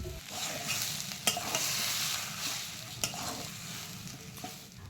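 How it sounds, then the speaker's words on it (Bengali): Boiled, grated potatoes are stirred into vegetables in a frying pan for vegetable chops, giving a steady close sizzle with scraping strokes and a few sharp spoon knocks against the pan. "আলুটা দিয়ে ভালো করে নেড়ে চেড়ে এগুলোর সঙ্গে মিশিয়ে নিচ্ছি"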